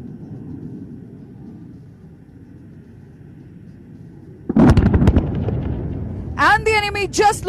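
Bombs dropped from Indian Air Force aircraft explode during a firepower demonstration, a sudden loud burst of booming blasts and crackling debris breaking a low rumble midway, with a voice speaking over the tail end.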